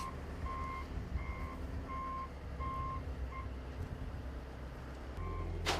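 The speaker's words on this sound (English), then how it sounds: "Once he is clear from the saddle of the dump truck, he's then going to back up" A dump truck reverses to set its tailgate down on dunnage, its backup alarm beeping in a steady evenly spaced series over a low diesel engine rumble, with a brief hiss near the end.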